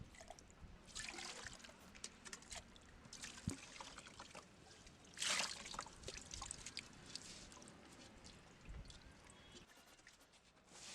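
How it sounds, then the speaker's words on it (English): Water splashes and trickles inside a container being rinsed clean, with a brief louder gush midway, heard close and fairly quiet without speech. "Okay, now I just clean it with some more water."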